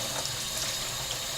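Water runs from a tap in a steady, hissing stream, loud and close, with no voices.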